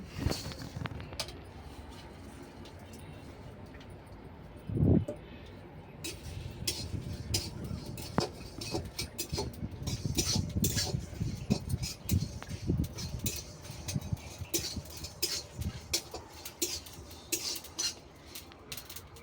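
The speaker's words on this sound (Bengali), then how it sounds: "এটা আমি শুকনো খোলায় নেড়ে নেব" Dried red chillies, fenugreek, cumin, coriander and fennel are dry-roasted in a hot kadai. A spatula scrapes and clinks against the pan in irregular strokes, with a sharper knock about five seconds in.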